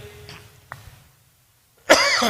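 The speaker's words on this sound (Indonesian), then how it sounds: "tidak nyangka bakal batuk begini ya kan." After a quiet stretch with faint background sounds, a single loud, harsh cough bursts out close by near the end.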